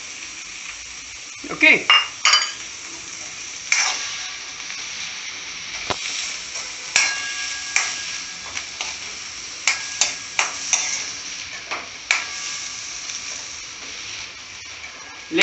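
Blanched green peas sizzle softly in a hot pan, with scattered clinks and scrapes of stirring over a steady frying hiss; a brief spoken word comes early.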